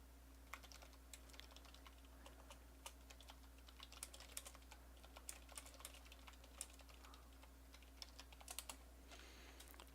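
Quiet computer keyboard typing, a steady run of light, irregular key clicks over a low constant hum, with no one talking.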